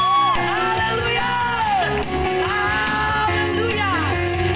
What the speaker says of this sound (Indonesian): Tepuk tangan yang paling meriah bagi Tuhan Yesus